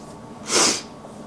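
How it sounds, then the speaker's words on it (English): A single sneeze bursts out mid-clip in a quiet room, short and fairly loud, with a sharp breathy hiss at its peak and faint background hush before and after. "I feel like I'm gonna sneeze"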